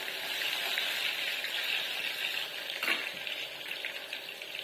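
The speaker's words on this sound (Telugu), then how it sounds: "ఎల్లిపాయలు కొద్దిగా వేగాలి." Garlic and tempering spices, with dried red chillies, sizzle steadily in hot oil in a pan for chutney seasoning, a continuous close, bright frying hiss with a brief louder crackle near the middle.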